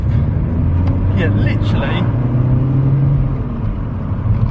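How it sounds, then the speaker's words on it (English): SEAT Ibiza FR hatchback engine accelerating on the road, a steady low rumbling drone heard from inside the car, with someone talking over it briefly. "just driving this now and putting my foot down, it blows my mind"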